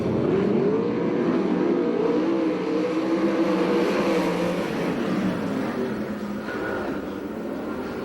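USAC/CRA sprint cars roar off at the green flag of a 10-lap heat race at Perris, California. A pack of engines drones loudly and steadily with a wavering pitch, heard alone without voices.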